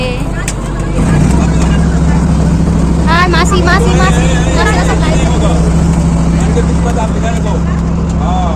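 A boat engine drones steadily on the Brahmaputra river, a low continuous hum running throughout after a brief start, with people talking over it.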